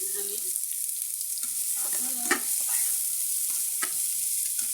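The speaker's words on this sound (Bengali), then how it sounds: "কড়ার মধ্যে সরিষার তেল দিয়ে দিলাম।" Mustard oil heating in a wok, a steady, even sizzle from start to finish with a few faint clinks of utensils, and no one talking.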